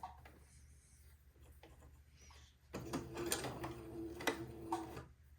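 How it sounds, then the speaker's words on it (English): A sewing machine straight-stitches entredeux flat onto fabric for a funeral pall, starting after quiet handling noises and running as a close, busy mechanical whir of about three seconds. "let me begin to sew this entredeaux flat to the fabric using a straight stitch"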